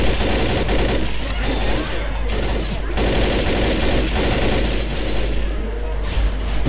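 Rapid, continuous gunfire from the Left 4 Dead co-op shooter, with dense bursts and overlapping shots filling the whole stretch, loud and close, while players' voices run faintly beneath the shooting.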